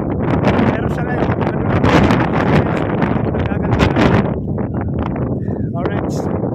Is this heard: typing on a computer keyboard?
no